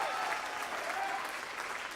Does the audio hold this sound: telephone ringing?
no